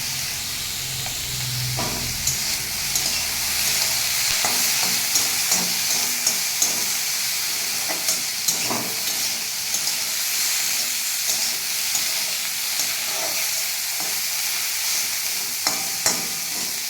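Bitter gourd (karela) fries in a little oil with turmeric and salt, a steady loud sizzle broken by repeated scraping stirs of a spatula against the pan, with no talking.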